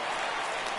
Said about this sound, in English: when you can win one at home in front of your home crowd, all those fans cheering